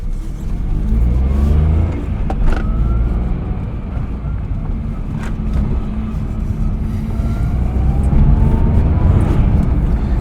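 A Maruti 800 car engine runs steadily with a low, continuous rumble and faint road noise, occasional light clicks over it.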